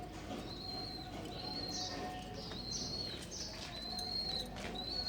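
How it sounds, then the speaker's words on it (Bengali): A baby dove's thin, high chirps repeat in a steady series of short calls, fairly close, over a constant background hiss. "এই যে আমার ছোট বাচ্চাটা কিচির মিচির ডাকতে করতেছে"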